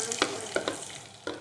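Three red chillies and chopped onion frying in a hot pan on an electric stove, stirred with a few quick scraping strokes over a loud, continuous sizzle.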